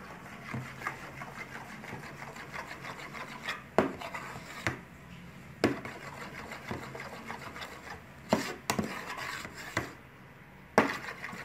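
A brush stirring a homemade hair mask of honey, cornstarch and Skala cream in a bowl, a faint, steady wet swishing with occasional sharper taps against the container.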